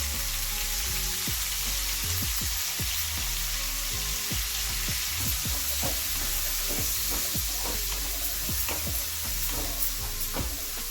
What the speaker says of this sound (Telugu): మనం సన్నగా కోసుకున్న ఉల్లిపాయలు వేసుకుందాం. పచ్చిమిర్చి వేసుకుందాం.